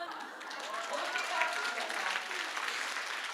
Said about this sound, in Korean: 박수 받을 일이 아닌데.